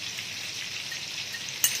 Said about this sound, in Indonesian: Ini sotongnya saya goreng tempura dulu